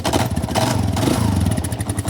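A motorcycle on its fully standard stock exhaust runs close and loud, with a fast, even, throbbing idle.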